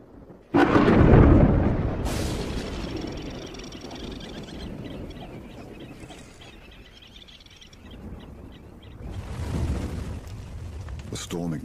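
A thunderstorm over African bush rolls in with a loud, deep thunder crack and long rumbling, a sharp hiss of rain or wind, and a second swell of rumble later, under a narrator's voice.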